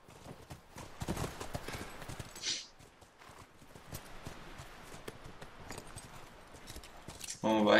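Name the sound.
horse hooves in the video game The Last of Us Remastered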